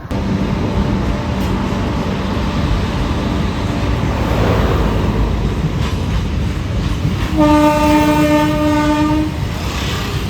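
A goods train rumbles past loudly and continuously near Ambagarathur station, wheels clattering on the rails, and its horn sounds briefly near the end.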